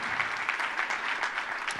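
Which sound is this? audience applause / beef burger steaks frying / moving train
audience applause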